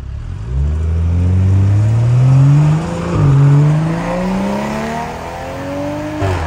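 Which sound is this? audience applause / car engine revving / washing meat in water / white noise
car engine revving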